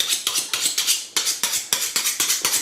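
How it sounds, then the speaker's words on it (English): A kitchen knife being sharpened in quick, regular metallic strokes, about a dozen rasping swipes in steady rhythm, loud and close with no speech. "This knife's a bit sharp. I'm a bit blunt. I'm going to have to sharpen it."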